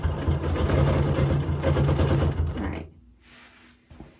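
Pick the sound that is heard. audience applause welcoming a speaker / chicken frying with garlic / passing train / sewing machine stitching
sewing machine stitching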